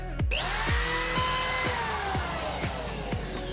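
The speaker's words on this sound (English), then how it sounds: "Drill some pilot holes." A power drill whirs continuously at close range while drilling pilot holes in wood, its motor pitch steady with faint rhythmic pulsing.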